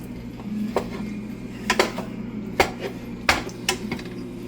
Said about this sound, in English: you're going to take your spatula and you're just going to break this down here until it's all broken down